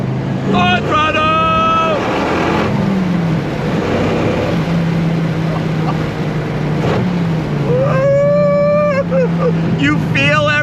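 A 1993 Dodge Viper RT/10 engine runs loud and steady with a deep low drone, rising in pitch as it accelerates, interrupted by short shifts. Wind rushes across the microphone and a voice speaks over it.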